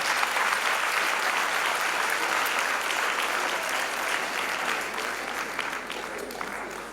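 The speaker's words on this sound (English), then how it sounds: "A big round of applause." A large audience at a West African examination council student awards ceremony in Freetown claps steadily, a broad, sustained wave of applause that eases slightly toward the end.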